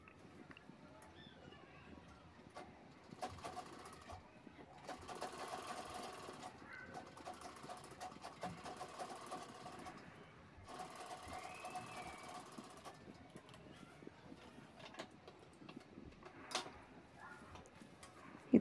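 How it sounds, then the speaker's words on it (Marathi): A sewing machine stitches a folded strip with inner piping on a shopping handbag. It runs in several bursts of rapid mechanical whirring that start and stop, with quiet handling sounds in between. "आतली ती पट्टी दुमडून मी त्यावर दाबटीप घेते आहे"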